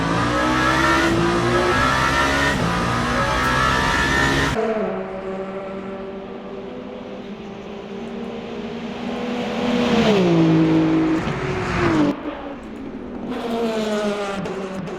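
A BMW GT3 race car engine in the Le Mans Ultimate racing game, driven hard near Arnage: loud close revving that climbs, drops sharply at a gear change, then sweeps up and down again with no talk.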